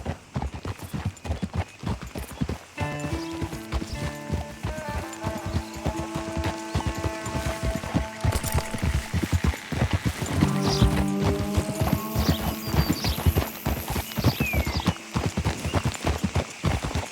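Horse hooves in Red Dead Redemption 2 on the ride into Rhodes, a steady run of close clip-clop beats under a sustained musical score that swells and fades, with a faint high whinny near the end.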